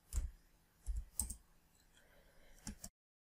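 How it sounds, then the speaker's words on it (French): Mouse clicks while modelling a kitchen in SketchUp Pro: a few sharp, close clicks, two near the start, a pair a second in, then another pair near the end, with quiet between. "Je clique une fois sur la surface."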